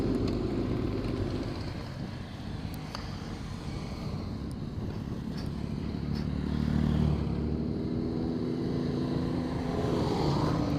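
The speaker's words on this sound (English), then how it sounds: "Let's see how many bikes are coming past." A group of motorcycles rides past on a theft awareness ride, their engines a continuous broad roar mixed with wind buffeting, swelling slightly louder partway through as more bikes pass close by.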